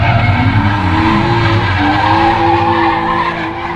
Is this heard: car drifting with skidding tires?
yes